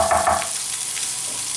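Garlic fries in a pan, a brief hot sizzle with a couple of quick stirring scrapes at the start, then a softer crackle trailing off.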